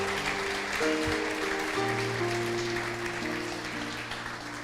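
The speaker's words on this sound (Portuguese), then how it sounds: "Então aplaude ele bem forte" Full applause from a church congregation during a sermon, continuous and fairly loud, over sustained keyboard chords, slowly easing toward the end.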